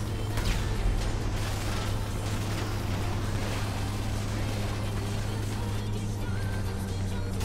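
A boat engine in GTA 5 during the Cayo Perico Heist, a steady low droning hum with mechanical rattle running at constant loudness throughout, with faint background noise layered over it.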